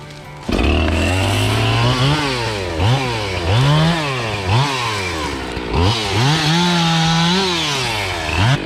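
A chainsaw cuts a felled tree into firewood, the engine revving up and down in repeated loud bursts as the bar bites through the wood, close and steady.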